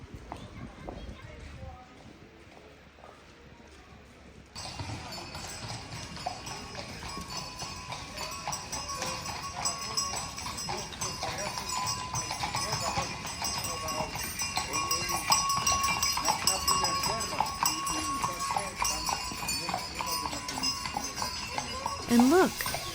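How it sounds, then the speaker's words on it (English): Horses clip-clopping as they pull carriages through the Swiss mountain village of Gstaad, a steady stream of hoof falls and outdoor bustle that grows slightly louder over time, with speech heard throughout. "In Gstaad, horses are the privileged transport."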